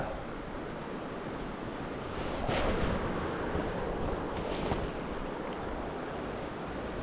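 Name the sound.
wind blowing upstream at campsite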